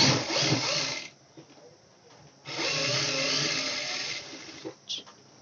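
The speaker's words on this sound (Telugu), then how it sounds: "ఇప్పుడు దీన్ని ఇలా మనము స్టిచ్చింగ్ అనేది వేసుకోవాలండి" Sewing machine stitching red and white fabric for a handmade latkan tassel, running in two loud bursts of steady whirring separated by a quieter pause, with faint handling noises between.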